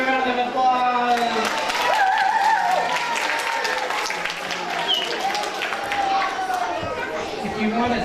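Audience at a children's library show clapping for a performer named Stinky; a steady wash of claps mixed with chatter and a few voices throughout, moderately loud.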